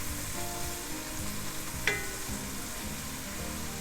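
Leeks sweating gently in a pan give a steady, soft sizzle and crackle throughout, with one brief sharper clink partway through; no one speaks.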